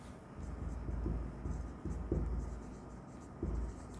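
A pen scratches across paper while an accounting transaction is written out by hand, a soft, close scraping in short strokes with small taps between them.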